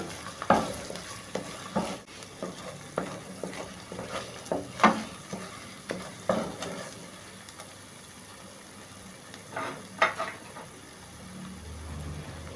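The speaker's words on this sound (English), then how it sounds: "I will also stir fry this for about 3 minutes" Jollof rice ingredients are stir-fried in a pan, a steady background sizzle broken by repeated scraping strokes of a utensil, some louder and close.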